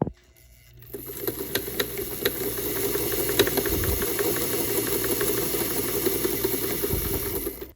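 A sewing machine stitching down the hem of a linen dress, running steadily with a fast, even mechanical rattle and whir after a brief quiet start, close and alone without any talking.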